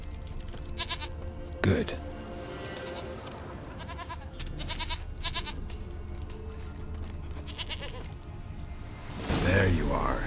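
A goat in The Witcher 3 bleats twice, once early and once near the end, loud and close against background game ambience, with someone speaking briefly between the calls.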